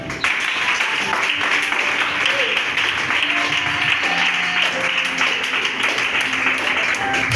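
Applause from a church congregation at an Easter service, dense and steady clapping sustained throughout, with faint voices mixed in beneath it.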